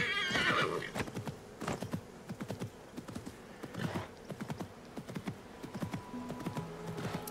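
Horses gallop in the video game Assassin's Creed Mirage with steady, rapid clip-clop hoofbeats throughout, close and fairly loud. A brief neigh and faint game ambience sit underneath.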